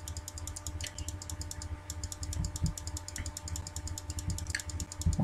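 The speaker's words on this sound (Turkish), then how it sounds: "Mouse'un sesi şu an büyük ihtimal size geliyordur." Computer mouse clicked rapidly and steadily while opening chests in the Metin2 game Turan MT2, producing close, crisp ticks in an even rhythm over a low fan-like hum.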